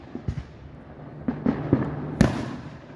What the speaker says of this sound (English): why don't you just enjoy the fireworks?